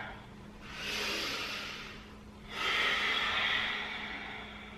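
Two long, breathy exhales during a stretching exercise, each a loud close whoosh of air lasting over a second, with a brief pause between.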